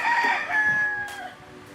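A rooster crows a single drawn-out cock-a-doodle-doo on a road in the Marquesas Islands, fairly close and clear, with a fainter cluck or second call trailing after it.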